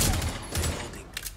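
Gunfire in the Rainbow Six Siege video game: a few close, sharp shots with a burst near the start and another around the middle, then softer shots fading out, no voices over them.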